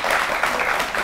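A studio audience claps in a dense, brief burst of applause, loud and close, with no pause.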